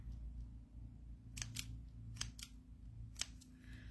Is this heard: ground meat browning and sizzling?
no